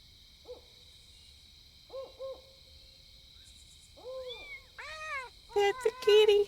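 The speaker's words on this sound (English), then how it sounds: "Pet the kitty." A pet cat meows repeatedly in the video game Pentiment, a few short mews rising into louder, clearer meows toward the end, preceded by soft hooting calls.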